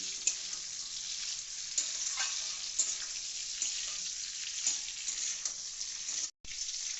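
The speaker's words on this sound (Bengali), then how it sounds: "মোটামুটি সবজিটাও ভাজা হয়ে গেছে এরপরে মাংসগুলো আমরা এতে দিয়ে দিয়ে একটু ভালো করে নেড়ে চেড়ে" Chicken and vegetables stir-fried for fried rice hiss with a constant bright sizzle, punctuated by light rhythmic spatula stirs, close and without talk, cutting out briefly near the end.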